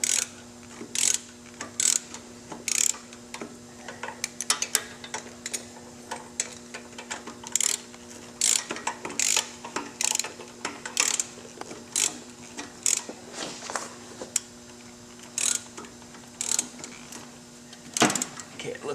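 Socket wrench ratcheting in short repeated bursts on a tight bolt while installing Lloyds torque tubes on a steel-frame Victory motorcycle, clicking clearly with brief pauses between strokes.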